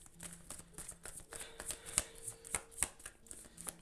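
Tarot cards shuffled near the listener, rustling softly with sharper snaps and taps as the deck is handled, moderate in loudness, with no one talking.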